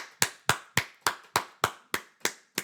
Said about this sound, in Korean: 다 같이 박수하십시다